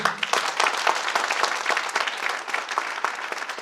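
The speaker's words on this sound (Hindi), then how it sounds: "अपनी एक जोरदार तालियों के बीच बताइए मुझे" An audience at a business seminar breaks into loud, dense applause that goes on steadily with no one speaking.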